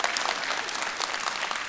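A comedy club audience applauds, a dense, steady clatter of many hands clapping close and loud throughout, with no voices on top.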